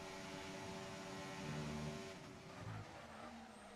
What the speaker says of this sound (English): Cars lapping